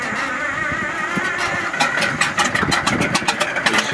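A bulldozer engine turns over and tries to catch after its carburetor is refilled, with a steady churning hum that gives way to choppy, sputtering pulses in the second half.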